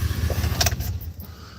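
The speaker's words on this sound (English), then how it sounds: "Let me turn this truck off." A truck engine idling close by is shut off, its low rumble cutting out after a key click and a short rattle, leaving quiet cab hiss.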